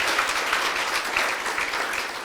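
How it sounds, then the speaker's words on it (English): A brief, steady burst of audience applause at a talk about the 51 Day War, dense and even throughout with no voices over it. "you can clap."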